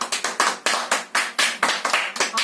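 Hands clap rhythmically and loudly at a steady quick beat, about five claps per second, as a congregation claps together in worship at a home Sunday service.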